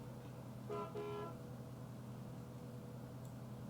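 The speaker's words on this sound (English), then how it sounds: "Who is honking?" A car horn honks twice in quick succession, short moderately loud toots in traffic over a steady engine and road hum.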